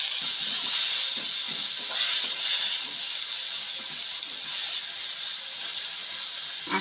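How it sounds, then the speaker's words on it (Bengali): A ground paste of garlic, ginger and green chilies hisses and sizzles in a frying pan for a chicken gizzard and liver dish, a continuous bright hiss that swells and eases in waves; no talking. "এখন এই বেটে রাখা মশলাটা এর মধ্যে দিয়ে দেবো।"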